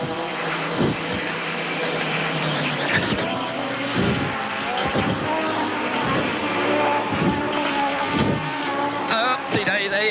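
A 1986 rallycross race car at Brands Hatch at speed near 100 mph, engine droning loudly with gear-change dips and tyre noise, under continuous in-car commentary.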